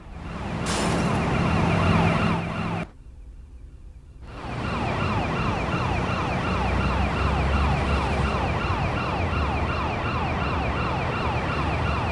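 Police sirens wailing in the video game GTA Chinatown Wars, a steady rising-and-falling siren under traffic noise, cut off by a short silence before resuming and continuing loudly to the end.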